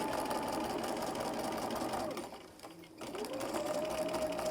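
A sewing machine fitted with a walking foot stitches a quilt, a steady fast whirring hum that slows and stops briefly in the middle, then starts back up and runs on, close and clear.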